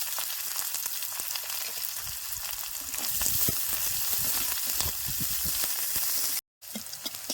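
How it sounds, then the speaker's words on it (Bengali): Chopped onion frying in mustard oil with dried red chillies and cumin, a loud continuous close sizzle with a few stirring knocks, briefly cutting out near the end. "পেঁয়াজটা দিয়ে দেবেন"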